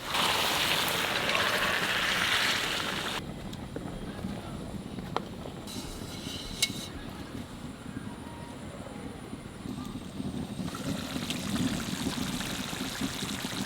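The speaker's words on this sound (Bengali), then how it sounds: "এবার গরম জল দেবো।" Hot water poured into a pot of kosha mutton with potatoes and onions, a steady rushing pour that runs for about three seconds, then continued low bubbling and stirring noise.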